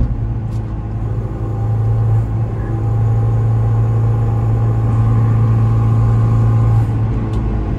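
A Citroen C4 1.6 hatchback drives through a curve, its engine and road noise forming a steady, loud low rumble from start to finish with a constant drone and no voices.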